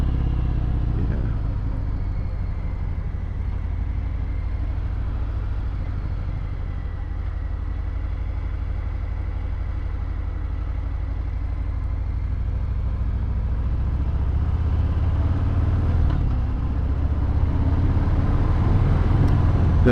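A 2018 Harley-Davidson Fat Bob with a Screamin' Eagle exhaust, heard while riding as a deep continuous low rumble, steady and close, swelling slightly toward the end with a wash of wind.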